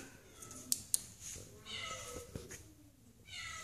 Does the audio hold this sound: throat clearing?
no